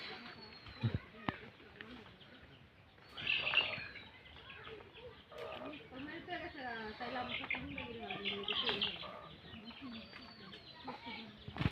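A pet bird chirps and calls in short bursts around the home, clearly audible while a person talks steadily over it.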